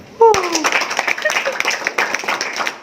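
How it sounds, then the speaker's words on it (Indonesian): An audience at a community meetup breaks into a steady wave of clapping right after a brief voice, sustained and fairly close for the rest of the moment. "Luar biasa, tepuk tangan."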